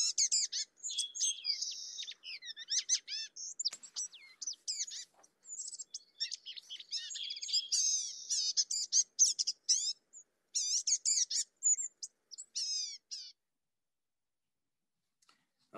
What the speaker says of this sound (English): One of my favorite birds, Eastern Bluebird.